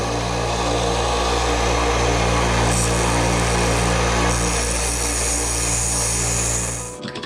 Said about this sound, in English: we're actually going to go ahead and use our sander, polish this thing up real nice